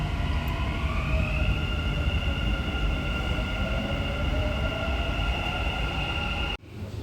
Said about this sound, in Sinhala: ඊට පස්සේ තම ආරක්ෂිත මෙට්‍රෝ එක ඉස්සරහට ගමන් කරනවා.